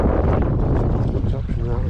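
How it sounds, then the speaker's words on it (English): Gusty wind at Ladybower reservoir in Derbyshire during fly fishing for rainbow trout, a steady loud rumbling roar buffeting the microphone throughout with no clear pause. "until this wind drops a bit"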